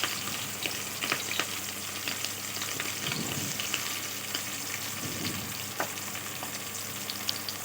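Onion pieces and green chillies frying in hot oil give a steady, close crackling sizzle throughout, dotted with small pops and a couple of brief stirring scrapes.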